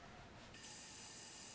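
An airbrush is back-flushed with air while a fingertip covers the nozzle cap; a faint, steady hiss switches on partway through and holds to the end.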